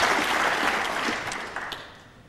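Crowd applause for a shot in the final of a World 9-Ball Championship pool match, a steady patter of clapping that tapers off over two seconds.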